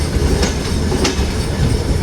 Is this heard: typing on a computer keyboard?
no